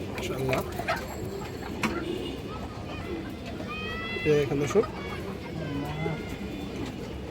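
Caged green-necked female pigeons coo in soft repeated bursts amid general background noise, with faint bird chirps layered in.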